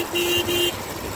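Car horns toot twice in quick succession over a low rumble of city traffic slowly building into a jam, with vehicles idling and creeping along.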